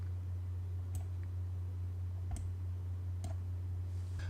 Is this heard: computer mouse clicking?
yes